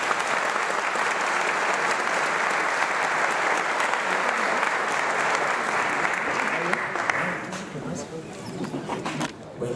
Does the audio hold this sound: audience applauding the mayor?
yes